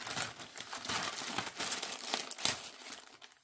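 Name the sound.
unwrapping the packaging of a Total Tarot magazine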